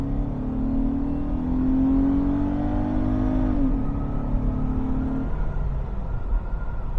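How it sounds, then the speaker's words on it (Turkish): A 1998 Opel Omega 2.5 V6 revs in a short blip, its engine tone climbing smoothly and then dropping back to a steady idle rumble, loud and close. "Şöyle ufak bir gazlama, ara gazlama yapalım."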